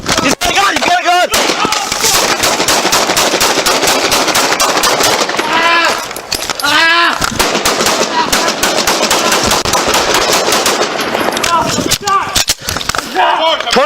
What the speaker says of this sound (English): 20 shots fired, officer down.